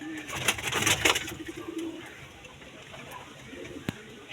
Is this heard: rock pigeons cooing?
yes